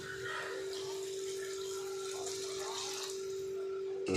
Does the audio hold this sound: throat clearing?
no